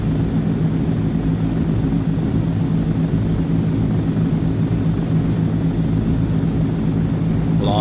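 Twin turboprop engines of a C-160 Transall in a flight simulator drone steadily during a climb, a loud, even, unbroken roar with a low rumble and no talking.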